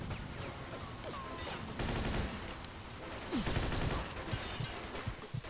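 Rapid bursts of gunfire crackle and pop in a busy, dense mix in the video game Mafia II, with sharp single shots breaking through sustained automatic fire.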